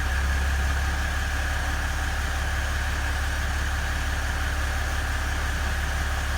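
A 2016 Ram EcoDiesel truck engine, which has a boost fault, idles with a steady, loud diesel rumble and a constant low vibration throughout, with no talking over it.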